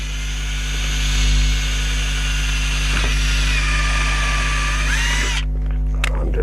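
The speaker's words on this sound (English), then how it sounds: "back into screwdriver mode, and we'll pop a screw in there." A power drill in screwdriver mode driving a screw into a garden planter, whining loudly and steadily for several seconds close by, then stopping abruptly near the end.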